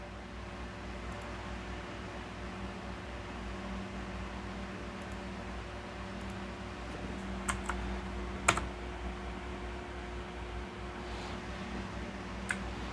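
Light, sparse keystrokes tap on a computer keyboard while writing Python code, a few isolated clicks over a steady background hum, with no talking.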